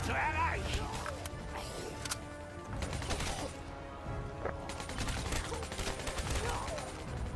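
Rapid gunfire in a zombie survival mode of a shooter game, dense overlapping bursts running nearly the whole time with a voice talking over it.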